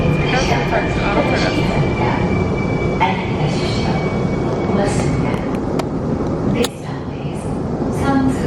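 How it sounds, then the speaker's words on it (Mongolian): A Seoul subway metro train rumbles steadily on the rails with a thin wheel squeal and intermittent clatter, loud and continuous throughout, with voices talking faintly in the carriage. "Метро цогцоо."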